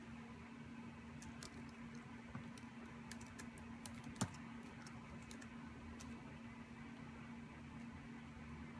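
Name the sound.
typing on a computer keyboard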